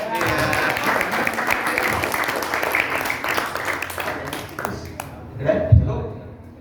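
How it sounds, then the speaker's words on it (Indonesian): Audience clapping at a school quiz competition during a Ramadan event at a prayer hall, a busy burst lasting about five seconds that stops abruptly, followed by a brief knock and faint voices. "Mana tepuk tangannya?"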